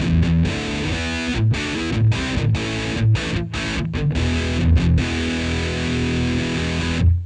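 A heavily overdriven electric guitar through a Homework Series Blues Drive pedal plays chunky distorted chords with short choppy pauses, loud and thick, ending on a sustained ringing chord.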